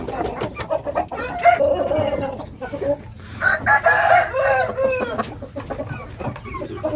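A Pakistani rooster crows close by in drawn-out, strained calls among other clucking fowl. A voice may be faintly present underneath.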